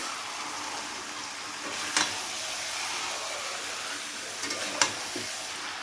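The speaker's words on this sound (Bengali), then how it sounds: "এবারে আমাদের খুব ভালো করে চিকেনটাকে কষাতে হবে" Chicken pieces sizzling and being stirred in a hot pan while cooking for aam kasundi chicken, a steady close frying hiss with a couple of brief scraping stirs, no talking.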